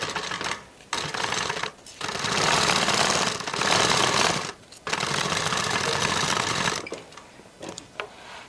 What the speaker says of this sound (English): go ahead and stitch your bottom edge using a 1/2 inch seam allowance.